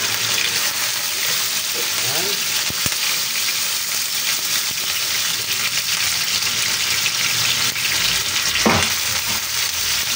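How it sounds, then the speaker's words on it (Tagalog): Tambakol fish frying in oil in a wok-style pan, a steady close sizzle and crackle running throughout with occasional stirring clinks. "Ipiprito po muna natin yung ating tambakol."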